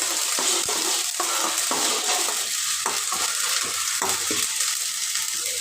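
Ginger garlic paste sautéing in hot oil in a pan for mutton pepper chukka, a loud continuous sizzle close up with repeated scraping stirs of a spatula, no voices.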